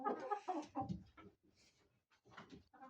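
A hen makes close, choppy clucks in short uneven bursts while she checks her eggs, with brief pauses in between and some faint background noise.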